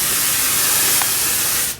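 A spray gun hisses steadily as finish is sprayed onto a wooden fish tank stand, the loud, close blast holding for almost two seconds before cutting off.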